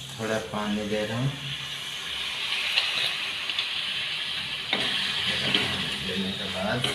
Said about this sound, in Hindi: थोड़ा पानी दे रहा हूँ।